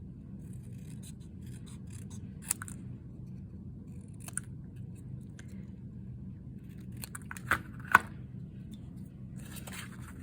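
Scissors snip through paper now and then, a few short, crisp cuts spread out over a quiet low hum, with a couple of cuts close together.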